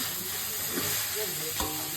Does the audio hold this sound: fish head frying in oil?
yes